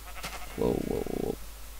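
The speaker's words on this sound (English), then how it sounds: "I hear a sheep" A single sheep from Minecraft bleats once in a wavering, mid-length call, close and clear above a faint steady background hum.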